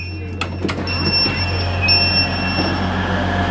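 A Tyne and Wear Metro train pulls into platform 4 at Sunderland station, heard from on board: a steady loud rolling rumble and hum with high-pitched wheel squeal tones running throughout, plus a few clunks near the start.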